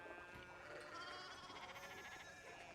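Sheep bleat in the video game Pentiment, a faint layered chorus of wavering cries that continues throughout, mixed with soft background music and ambience.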